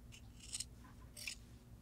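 Sewing scissors trim fabric close to a zigzag stitch along a seam, making two quiet, crisp snips about half a second apart against a low background hum.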